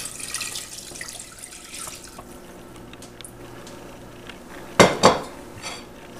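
Water poured from a container into a cooking pot while making chicken for chilaquiles, faint kitchen clinks first, then two sharp splashing pours close by near the end.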